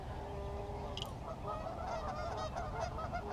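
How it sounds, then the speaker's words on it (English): Ducks call noisily on a morning waterside, with repeated honking, quacking cries over a constant low background rumble. "And these ducks are going crazy here this morning."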